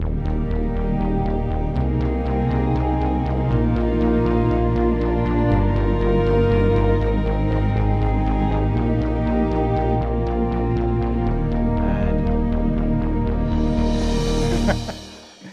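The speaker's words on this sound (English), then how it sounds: "here I've put in just an arpeggiated synth bass" Pulsing arpeggiated synth bass plays a steady repeating pattern, layered with keyboard tones, continuous and loud before fading out at the end.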